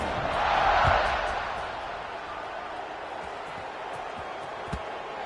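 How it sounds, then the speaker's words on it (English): A football stadium crowd roars in a broad, steady wash before kickoff, swelling near the start and then holding at a loud, even level, with a sharp thump or clap near the end. "this crowd now ready to get behind them"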